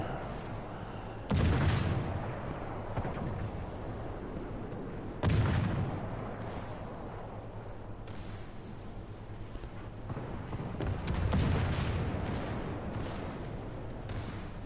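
Warship guns in the naval video game World of Warships fire in salvos, three heavy booming blasts spaced a few seconds apart over a constant low engine and sea rumble, with no voices.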